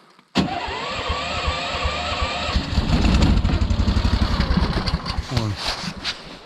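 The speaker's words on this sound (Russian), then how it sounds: "Стартер у нас работает теперь." Starter motor cranks an engine on a winter ice-fishing trip, then it catches and runs rough and loud, with a brief whirring crank near the end, all close by.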